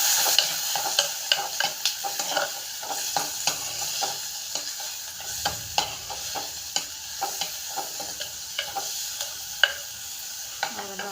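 A spoon repeatedly scrapes and knocks through food frying in a pan, making rhythmic clicks and scrapes over a steady hiss of sizzling oil.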